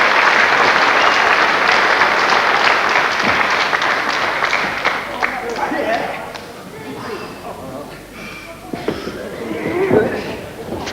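Crowd applauding at a wrestling match: loud sustained clapping at first that thins and fades, with a commentator talking over it.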